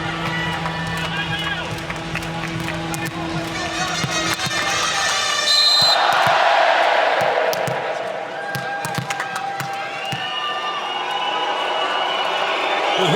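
A volleyball arena crowd at a men's international final between France and Russia, whooing and whistling at a Russian server. A busy, loud hall roar swells midway, with sharp thuds and a commentator talking over it.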